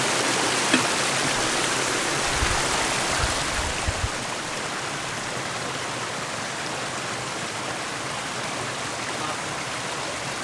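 Water rushes steadily through a waterwheel pipe, a dense, continuous hiss and gush that stays loud and even throughout, with a few faint knocks early on and no talking.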